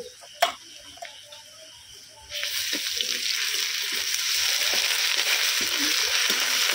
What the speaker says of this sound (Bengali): তেলের সঙ্গে খুব ভালো করে ভেজে নেবো যাতে না কাঁচা গন্ধ থাকে